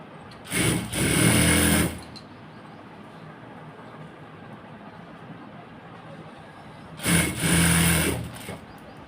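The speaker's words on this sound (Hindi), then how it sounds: "और हम अब हमें यहाँ पे सिलाई लगा देंगे।" Sewing machine stitching palazzo fabric, running in two steady whirring bursts of about a second and a half each, separated by a quiet pause.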